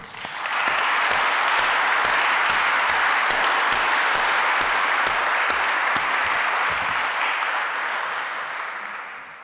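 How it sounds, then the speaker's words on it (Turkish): A large audience claps together at a volleyball club's season-opening event, a steady, loud roar of applause that swells quickly, holds evenly for several seconds and fades slightly at the close. "bu başarıyı isterseniz hep beraber alkışlayalım"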